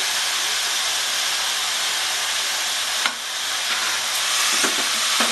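Bottle gourd with small shrimp, turmeric and salt cooking in a pan, a loud continuous sizzle and hiss with a few scraping stirs toward the end, close up and without voices.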